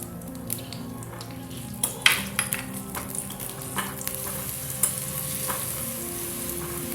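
Cumin and garlic paste sizzle in hot oil in a pan, making a steady close frying hiss with a few sharp crackles and stir clicks and no talking.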